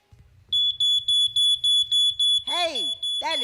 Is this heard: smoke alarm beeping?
yes